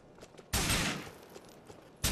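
Two sharp, loud bursts of AK rifle fire in Grand Theft Auto IV team deathmatch, a longer half-second volley followed after a quiet gap by a second burst cut off at the end.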